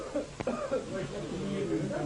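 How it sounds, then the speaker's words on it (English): A rough, rasping cough bursts out once amid a low murmur of voices and background bustle, as people pass a wooden pipe or chillum of marijuana around in 1970s Kathmandu, Nepal. "Only rasping coughs break the peaceful silence."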